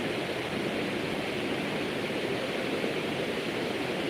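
Water overflows from the top of Bargi Dam in a loud, continuous rushing roar, a dense broadband wash of falling water with no voices.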